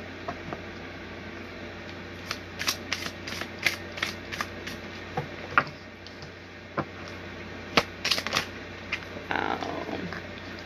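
Tarot cards are handled and shuffled close by, giving bursts of quick crisp flicks and riffling clicks in clusters, with soft rustling between them over a quiet room hum.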